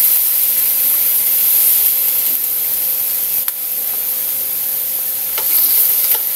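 Pork for adobo frying in a pan, a steady loud sizzle with faint stirring clicks and scrapes, no talking.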